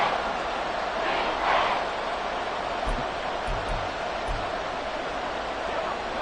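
Football stadium crowd cheering in a Saints vs. Falcons video game matchup, a broad sustained roar with a brief swell near the start, under commentary talk.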